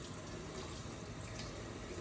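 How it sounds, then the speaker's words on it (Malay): Water drains steadily from the hot and cold tanks of a Coway NEO water purifier, a continuous close splashing flow with no one talking. "kita buang semua air yang ada di dalam sejuk dan panas"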